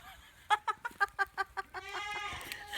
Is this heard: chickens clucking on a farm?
yes